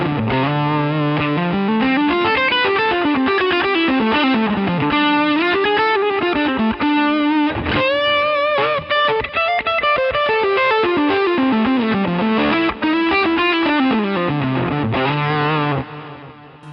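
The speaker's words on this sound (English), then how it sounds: "So this is kind of like that smoky, all open Dumble kind of tone." A Stratocaster electric guitar plays a smoky, open Dumble-style lead through a Helix, loud sustained overdriven notes bending and sliding in a fluid melodic line, with a brief rhythmic chordal passage midway, solo with no talking.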